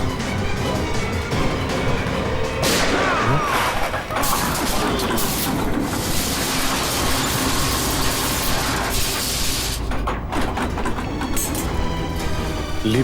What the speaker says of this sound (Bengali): লিফটটা দ্রুত নিচে আসছে